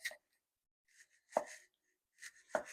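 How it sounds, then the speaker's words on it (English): Knife cutting tomatoes into very thin slices for smash burgers, giving a few sparse, soft crisp cuts with short pauses between strokes, close and quiet. "Okay, tomatoes, very thinly sliced."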